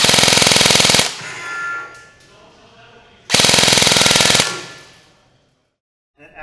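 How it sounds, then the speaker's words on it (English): Two bursts of rapid full-auto fire from an Elite Force MP7 A1 AEG airsoft gun, each about a second long, a dense buzzing rattle close to the mic, separated by a quieter pause with faint mechanical sounds. "Let's try it on full auto for rate of fire."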